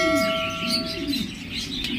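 Diamond doves in a cage at a bird seller's give soft cooing and chirping calls close by, with steady background hum.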